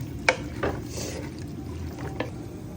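Chicken with spices is stirred in a pan, giving a few scraping, knocking strokes over a soft, steady sizzle of frying at close range.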